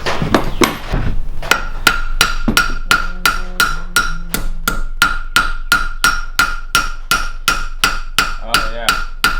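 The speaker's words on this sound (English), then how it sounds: "Somebody will say something about hitting that vice like that." Hammer blows strike a clamped steel vise in a workshop during a Tesla-powered Vanagon build, about two dozen sharp ringing metallic hits in a steady rhythm, loud and close.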